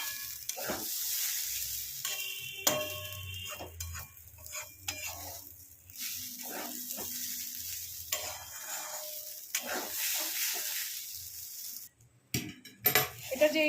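Rice fries in a pan for basonti pulao with a soft sizzle, while a utensil stirs and scrapes it in irregular strokes and the metal clinks now and then.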